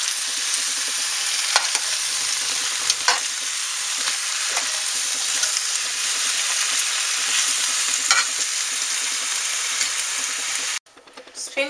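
Spinach cooking in a pan, a continuous bright hiss of frying with scattered small pops and stirring clicks, cutting off abruptly near the end.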